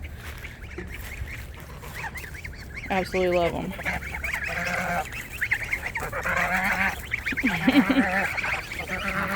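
Geese honking repeatedly alongside ducks, farm fowl in a Florida raised-bed garden, the loud nasal honks coming in bursts over steady outdoor background while a person speaks briefly.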